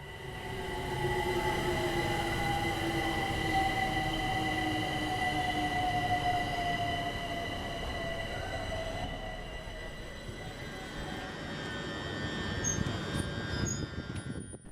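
A London Overground train rumbles past with a steady high-pitched electric whir and squealing tones, loud and continuous, fading slightly near the end before swelling again.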